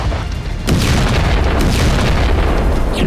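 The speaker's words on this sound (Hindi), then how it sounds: "मॉस्को की हथियार फैक्ट्री में बहुत बड़ा धमाका" A huge explosion at a Moscow weapons factory comes through as a sudden loud boom that gives way to a sustained roaring rumble, heavy and broadband, with no voices.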